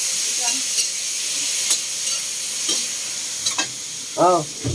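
Garlic, onion and tomato sizzle and get stirred in a pan, a steady frying hiss with scraping stirs, and a voice speaks briefly near the end.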